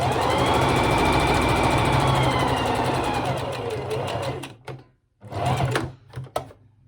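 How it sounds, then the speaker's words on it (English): Sewing machine stitching a straight seam on fabric, a fast continuous mechanical whirr for about four seconds, then stopping and restarting in short bursts, close up. "I've sewn from the top in a straight line all the way along"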